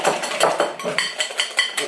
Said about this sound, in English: So mix it nice and hard.